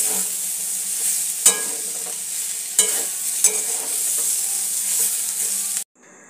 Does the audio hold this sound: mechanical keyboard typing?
no